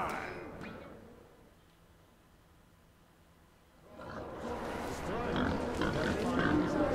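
Pigs grunting and oinking in the video game Metro Last Light Redux, a near, busy cluster of snorts that swells in the second half after a quieter stretch with a faint tone.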